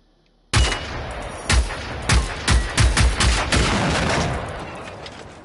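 Submachine gun fire in a video game: a loud, close sequence of sharp bursts, about six quick volleys in a row, trailing into a decaying echo.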